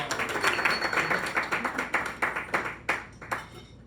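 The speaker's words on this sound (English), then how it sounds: "Let's give the bells a round of applause." An audience claps for bell players at a live music session: a dense run of crisp handclaps, fairly close, that thins out into a few scattered final claps.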